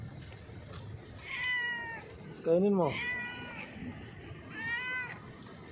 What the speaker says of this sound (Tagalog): Ang laki nitong pusa oh.